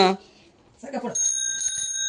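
A bell on a new child's bicycle gives a bright metallic ring that sustains after a short spoken exclamation, fairly close and moderately loud.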